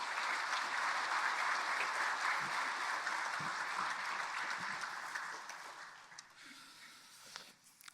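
A church congregation applauds to welcome a missionary speaker to the pulpit at a Sunday service, sustained dense clapping that gradually thins and fades out.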